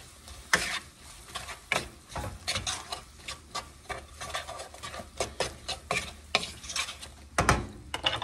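Apple pie egg roll filling stirred in a pan, a steady run of soft scraping clicks and taps from the utensil over a gentle sizzle, close and fairly quiet with no talking.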